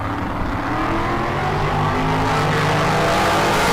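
A Corvette and another car launch off a drag strip start line at bracket races, a dense, steady engine roar that builds slightly in loudness, heard alone with no voices.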